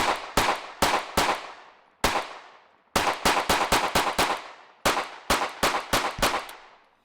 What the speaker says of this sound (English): Let's get some shooting done.